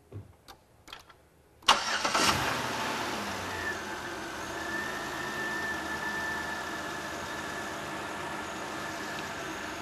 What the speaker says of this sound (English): And then you can start the vehicle.